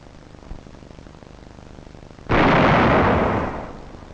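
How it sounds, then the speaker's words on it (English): An artillery shell with a time fuse bursts in one sudden loud blast that sustains as a broad roar for about a second before fading, after a quiet, faintly noisy lead-in. "Time fuse and light charge will open the shell at the target."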